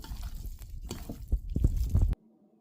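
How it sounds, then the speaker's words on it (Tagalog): Raw pork pieces are kneaded by hand with garlic and salt, giving close wet squelches and soft slaps in an irregular rhythm before falling silent. "Tapos lalamasin po natin ng ganito para kumapit po yung lasa ng bawang tsaka asin sa karning baboy natin."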